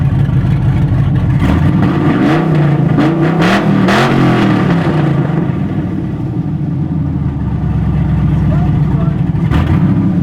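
A rebuilt 1999 Harley-Davidson Dyna with a finished exhaust runs steadily, its engine rumbling at moderate volume and swelling with a few revs, while people talk over it.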